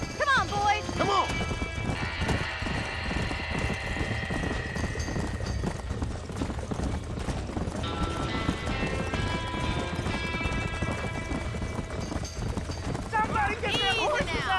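Horses gallop with rapid clip-clop hoofbeats during a barn fire in the Red Dead Redemption video game, under shouting voices, a neigh and steady loud ambient noise throughout.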